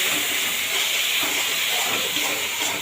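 Banana flower curry sizzles loudly and steadily in a pan just after water is added, a broad close hiss that holds without a break and with no talk.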